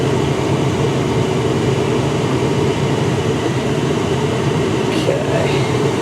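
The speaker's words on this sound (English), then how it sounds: "it definitely knows that the heat works and it's blowing" Heater fan blowing inside a 1998 Chevy K1500 4x4 extended-cab pickup, a steady loud broadband rush of air running unbroken throughout.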